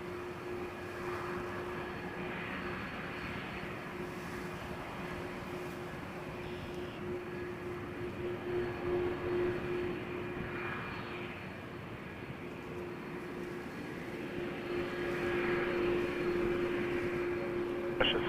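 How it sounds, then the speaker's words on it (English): WestJet Boeing 737-800 airliner on the runway at Toronto Pearson Airport, a steady distant jet engine rumble and hum that swells slightly toward the end, heard from afar with a constant tonal whine. "WestJet 1224 headed to Orlando, 737-800."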